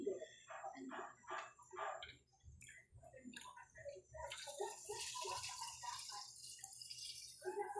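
Water pours steadily into a small fish tank with a rushing splash in the second half, after a stretch of chirping birds and a distant rooster-like call.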